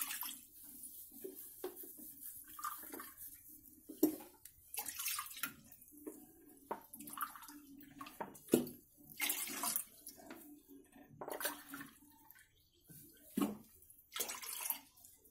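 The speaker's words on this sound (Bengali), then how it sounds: "এবার আমি এর মধ্যে প্রথমে দেব 4 কাপ জল।" Water poured from a cup into a kadai on the stove to make sugar syrup for rasgulla, a splashing, gurgling pour in several bursts close by, with no talking.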